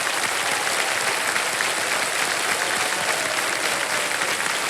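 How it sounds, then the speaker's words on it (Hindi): Studio audience applause on a television quiz show, a loud, dense and continuous roar of many hands clapping together, with no speech over it. "तालियां बज जाएं इनके लिए।"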